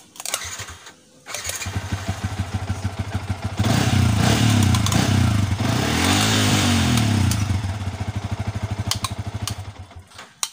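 A motorcycle engine cranks on the electric starter, catches and revs up loudly, then settles into a rattling idle of rapid pulses, close by with no voices.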